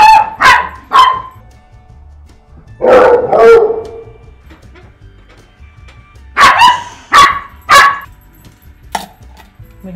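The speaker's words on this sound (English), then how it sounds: "Hold on, let me get this dog." A dog barks in short loud bursts: a few quick barks, a pause, a longer yelp, then another cluster of sharp barks, fairly close amid a quiet background.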